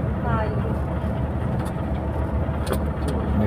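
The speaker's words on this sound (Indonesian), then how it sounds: "Ini bis-bis banyak sekali." Idling and passing buses crowd the forecourt of a mosque in Mecca, a steady low engine rumble filling the scene as people talk over it nearby.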